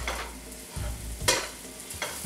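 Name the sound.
mixing sausage with paprika and cayenne in pan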